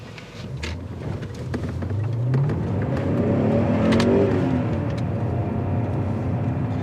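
BMW E39 M5 setting off from rest, its engine note rising steadily in pitch as it accelerates through the revs, heard from inside or close to the car with no talk.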